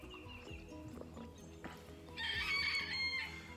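On a homestead, a rooster crows once, moderately distant, rising over a quiet outdoor background with faint clucking and other farmyard noises.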